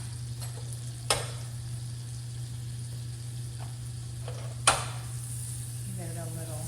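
Butter melts and sizzles softly in a pan over a steady low hum, with two sharp clicks or taps of the pan and a faint swirl near the end.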